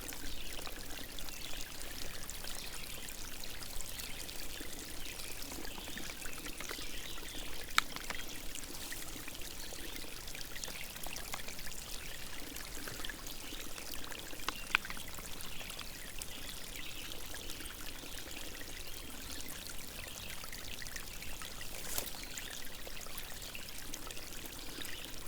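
Cold, fresh stream water pours steadily through a filter at a camping spot, a continuous close trickle and splash that runs evenly without pause.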